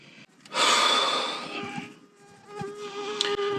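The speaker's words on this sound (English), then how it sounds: "I got a mosquito stuck in here somewhere with me." A mosquito trapped inside a pickup truck cab whines close to the ear, swelling into a loud, persistent buzz, fading, then returning for a second pass.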